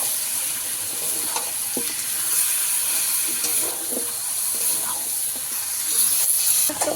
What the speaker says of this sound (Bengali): আটিয়ে রাখা মাছটাকে দিয়ে দেবো। যেরকম কষাই আমি কষাতে থাকবো।